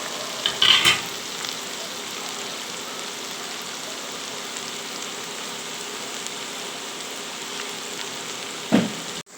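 Onion pakoda deep frying in hot oil, a continuous soft sizzle and bubbling, with a brief clatter of stirring near the start and another knock near the end.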